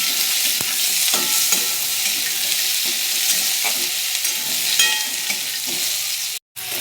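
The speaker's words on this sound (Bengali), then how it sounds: "আলুগুলোকে দিয়েও একটু ভেজে নেবো ভালো করে।" Cut potatoes and pointed gourd fry in an oil-filled pan, giving a dense, steady sizzle broken by the soft scrapes of a spatula stirring them, close up with no talking.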